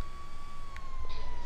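A fire truck siren in the GTA V video game wails steadily up close, a sustained high tone holding under engine rumble, with a brief extra chirp partway through.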